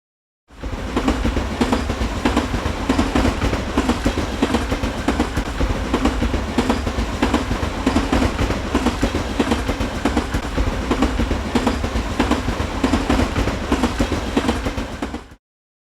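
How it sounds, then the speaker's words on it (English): A passing train rolls along the rails with a steady, loud rumble and rhythmic clickety-clack of wheels over track joints, continuous and close with no voices. "Train."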